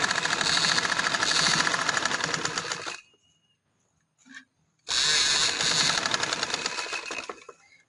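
Sewing machine stitching fabric at close range, two long runs of rapid, even mechanical chatter separated by a short quiet pause with a faint click, no voices.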